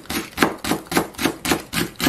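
A knife chops green onion on a cutting board in steady, rapid strokes, about eight even knocks in two seconds. Each chop lands close and crisp, with nothing else heard.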